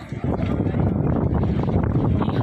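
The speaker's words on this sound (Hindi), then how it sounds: "तेज़ हवा भी चल रही है" Strong, stormy wind gusts across the open Mataf courtyard around the Kaaba in Mecca during a rainstorm, roaring steadily and buffeting the microphone with a dense, low rumble throughout.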